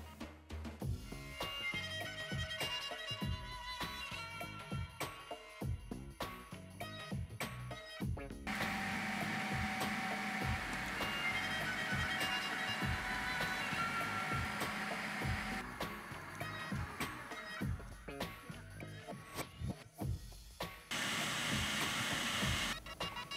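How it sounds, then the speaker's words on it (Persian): A blender whirs through spinach pesto ingredients for a raw vegan dish, with a loud motor whine running in bursts, then a long steady stretch, then a brief stop before it revs again. "همه مواد رو توی میکسر میریزیم."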